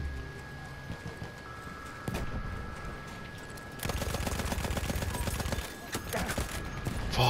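Gunfire in a Battlefield 1 Operations multiplayer match comes as a dense burst of rapid shots in the middle, among other battlefield clatter and scattered shots before and after.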